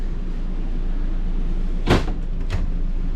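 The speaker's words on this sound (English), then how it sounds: "So your cabinet doors are not solid wood." A false-wood cabinet door in a 2024 Wildwood Platinum 22ERAS travel trailer gives one sharp thump as it shuts, followed by a softer knock half a second later.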